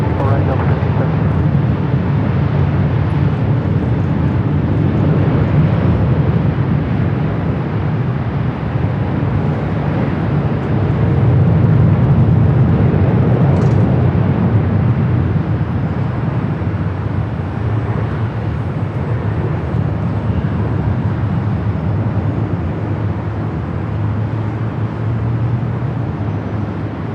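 An Emirates Airbus A380 on its takeoff roll and climb-out at Los Angeles airport, a loud sustained jet roar that swells and holds from a distance while a voice talks over it.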